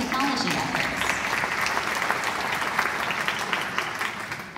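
An audience at a school district planning retreat breaks into sustained applause, a dense steady wash of clapping hands that fills the whole stretch at even loudness.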